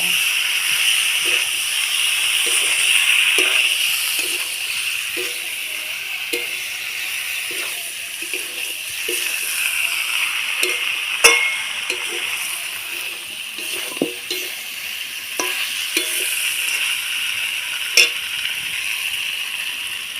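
Steamed jackfruit and fried potatoes sizzle and hiss in a hot pan while being stir-fried, with a steady bright frying hiss and repeated soft scraping taps of a spatula, plus a couple of sharper clinks.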